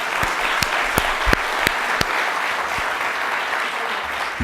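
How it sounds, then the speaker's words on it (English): A modest audience at an HR seminar claps for a guest speaker, a thin patter of applause with a few sharp, distinct nearby claps standing out, no speech over it. "Let's give him a round of applause."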